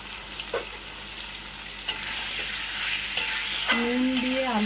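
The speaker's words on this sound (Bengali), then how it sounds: "আলুটাকে ভালো করে কষিয়ে নিতে হবে যতক্ষণ না আলুটা সিদ্ধ হচ্ছে" Potatoes sautéed with spices in a pan for a Bengali prawn curry, stirred steadily under a constant close sizzle, with a few scraping spatula strokes and a squeaky scrape near the end.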